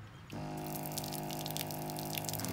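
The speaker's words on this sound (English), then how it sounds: "You want to fill it up with water." Water runs steadily into a sprayer tank from a tap, a close continuous hum of flow with a faint splash above it and no talk.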